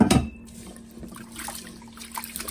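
Sticky rice being rinsed in a bowl of water, with a soft splash at the start followed by gentle sloshing and trickling that continue quietly throughout.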